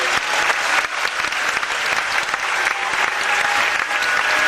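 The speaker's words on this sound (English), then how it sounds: "burst into a thunderous round of applause" A studio audience breaks into thunderous applause, a dense steady roar of clapping that carries evenly from start to finish, loud and close, with no voices standing out.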